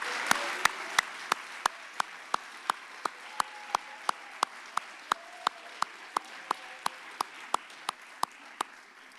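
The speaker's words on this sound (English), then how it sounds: "please join me in one last round of applause to thank our recipients" At a Chamber of Commerce teachers-of-the-year award event, a soft, steady wash of audience applause carries a very regular series of sharp, close individual claps punching through at an even beat.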